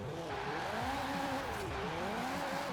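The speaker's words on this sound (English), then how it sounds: "I can still get the rear wheels to spin very easily" A Toyota in Forza Horizon 4 spins its rear wheels, giving a continuous, wavering tire squeal over a loud, revving engine drone that holds steady throughout the short stretch.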